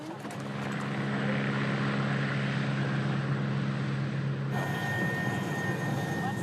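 A medical transport aircraft flies a patient toward a hospital in Bordeaux, with a steady propeller and engine drone heard from inside the cabin, loud and constant, its tone shifting partway through.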